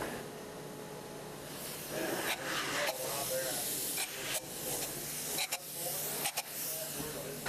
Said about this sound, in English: we're spraying the foam in as thick as we can in the rafter spaces